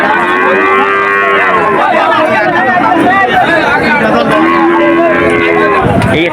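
Cattle and calves at the Shahpur cattle market in Khulna moo in long, loud lowing calls, close by, over a steady hubbub of crowd chatter.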